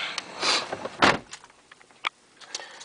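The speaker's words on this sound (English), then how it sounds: "Close the door here." A 2008 Volvo S80 3.2 car door thuds shut once, close by, followed by a few faint clicks and rustles inside the cabin.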